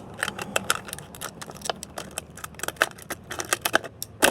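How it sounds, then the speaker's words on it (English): Scissors cutting through a crushed plastic bottle outdoors on a driveway, giving a quick series of sharp snips and crinkly plastic crackles in an irregular rhythm, close and fairly quiet. "I'm going to take my scissors and I am going to cut it."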